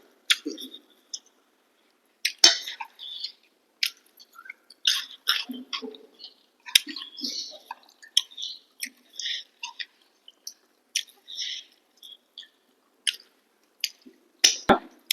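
Close, wet chewing and smacking while eating country chicken curry with kolam rice, intermittent bites and mouth sounds in a quiet room.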